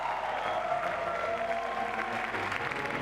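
A crowd applauds and cheers for climber Petra, the reigning bouldering world champion, at a competition. It is a steady, moderately distant wash of clapping and crowd noise that holds throughout.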